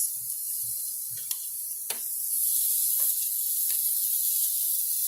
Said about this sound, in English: saute that a little bit. Brown the garlic and the onion